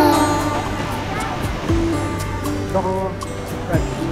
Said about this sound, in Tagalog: Narito po tayo ngayon sa Vera Falls.